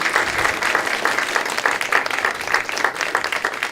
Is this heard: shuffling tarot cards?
no